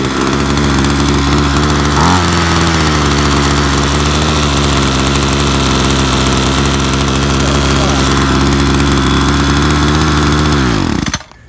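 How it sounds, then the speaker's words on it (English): A Ryobi EX-26 2-cycle 26cc curved-shaft yard trimmer from 2009 runs at a steady loud buzzing idle, with a brief rev near the start, then cuts off abruptly at the end. "Alright, so that's the EX-26 Ryobi 2-cycle 26cc."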